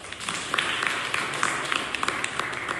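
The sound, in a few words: students clapping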